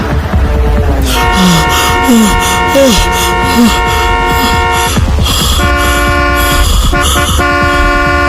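A loud, sustained horn blares over busy traffic noise, holding steady tones for several seconds before breaking into shorter blasts.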